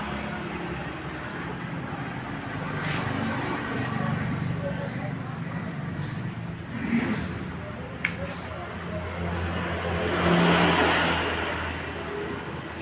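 A Suzuki RC100 motorcycle with its original exhaust runs at a steady idle, a continuous low rumbling drone that swells slightly near the end, with talk over it.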